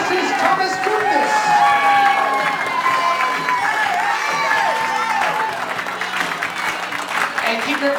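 Wedding guests at a hillside country club reception in Rhode Island applaud the newly introduced couple, loud sustained clapping and cheering from a crowd, with music and voices mixed in underneath throughout.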